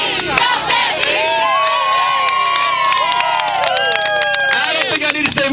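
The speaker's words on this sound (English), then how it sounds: "Really loud, everybody cheer." A rally crowd at a Tea Party gathering in Sioux Falls, South Dakota cheers and shouts loudly and continuously, with whoops and raised voices swelling throughout.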